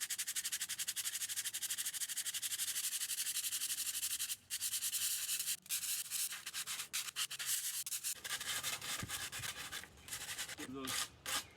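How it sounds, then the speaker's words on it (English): Wooden dowel sanded by hand with 60 grit sandpaper: continuous close rasping strokes, steady at first, then choppier rubbing with short pauses near the end. "we're just going to sand off the dowel, trying to avoid any splinters when it gets used"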